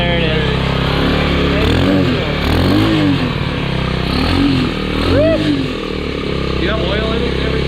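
A Honda Trail 70 motorcycle engine fires up on kickstart and runs loudly nearby, its pitch rising and falling with a few revs while people talk over it.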